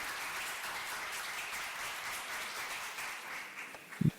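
Audience applause for the next team at a health hackathon pitch session in Riga, a steady wash of many hands clapping that holds evenly throughout and tails off with a brief low thump at the end.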